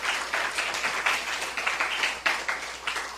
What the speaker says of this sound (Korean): 박수 한 번 더 할까요?